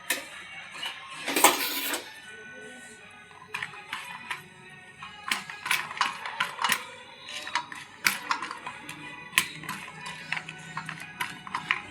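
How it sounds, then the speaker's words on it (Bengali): Hands mixing grated carrot with black salt, chopped onion and green chili in a bowl for a puffed-rice chaat, heard as a close run of irregular clinks, taps and scraping clatter, with a louder rustling burst near the start. "খুব ভালো করে বিট লবণটা মাখিয়ে নেব।"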